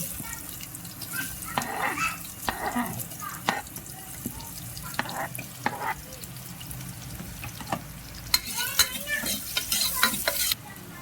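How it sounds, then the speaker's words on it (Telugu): Chopped onions hitting hot oil in a pan for a dhaba-style chicken curry, giving a continuous close sizzle with frequent stirring clatters and a louder burst of hiss near the end; faint voices sit underneath. "ఆయిల్ వేడయ్యాక ఇందులోనే కట్ చేసి పెట్టుకున్న ఉల్లిపాయల్ని వేసుకుందాం"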